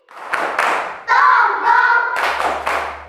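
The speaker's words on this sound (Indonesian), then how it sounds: "tepuk terima kasih" A class gives rhythmic thank-you claps in unison, a few sharp group claps, then a brief patterned pattering section, then more claps, close and loud with no talking.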